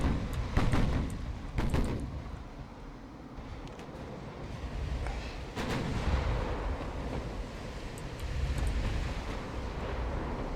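Low, rumbling booms of battleship guns in Ultimate Admirals Dreadnoughts, heavy naval fire rolling under a constant sea-and-wind wash, with a few distinct blasts near the start and middle.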